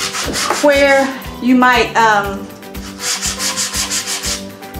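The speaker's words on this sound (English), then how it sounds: "we're just going to take the 220 grit sandpaper and just kind of scuff in different places, random" A wooden bench is scuffed by hand with 220 grit sandpaper, with rhythmic rasping strokes that repeat in quick succession, loud and close, while a person talks over the first half.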